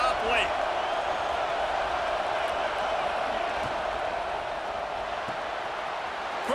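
Stadium crowd noise from the College Football 26 video game, a steady dense roar of cheering fans sustained throughout with no clear breaks, loud and enveloping, under a late-game defensive stand.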